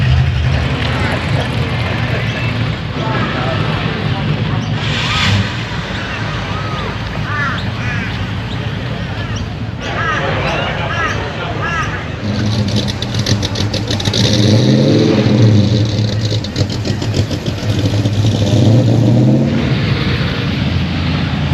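A patina-finished truck at an outdoor beach car show in the rain, its engine revving loudly and repeatedly in rising and falling surges, close by, with crowd chatter and voices mixed in.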